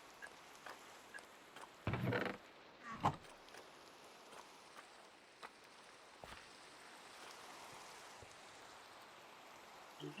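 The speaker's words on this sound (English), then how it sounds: "Sounds like it's raining again." Steady rain falls in a multiplayer survival video game, a faint, even hiss with a few brief louder blips and soft ticks scattered over it.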